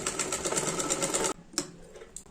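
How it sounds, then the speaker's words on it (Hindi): A sewing machine runs a fast steady stitch along a kurti seam for over a second, then stops abruptly, followed by a couple of faint clicks of handling. "हम उल्टी साइड से एक सिलाई लगा देते हैं।"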